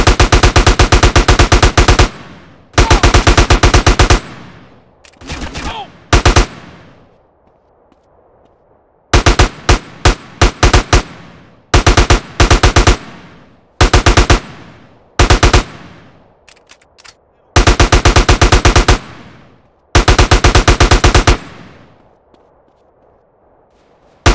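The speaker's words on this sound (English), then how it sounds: "That's a gun." Loud automatic gunfire in GTA San Andreas Definitive Edition, long rapid bursts of shots broken by short pauses and a few single cracks, close and dominant with nothing else over it.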